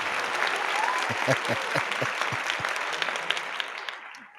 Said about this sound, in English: Gotta give myself a round of applause coming back.